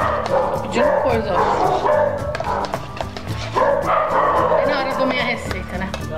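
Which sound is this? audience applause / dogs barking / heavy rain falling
dogs barking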